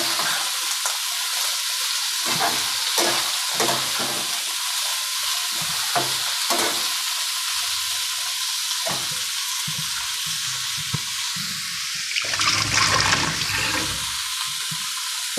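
Vegetables frying and being stirred in a pan for a diabetic-friendly summer recipe, a steady sizzle with repeated scraping stir strokes, growing louder and splashier near the end.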